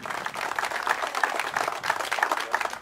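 A crowd at a public works launch ceremony applauds a town councillor with a steady, moderately loud wash of clapping that lasts the whole stretch.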